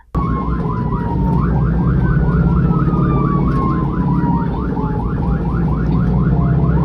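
An ambulance siren wails loudly and continuously up close, a repeating rapid rising yelp pattern over a low engine rumble, with no talking.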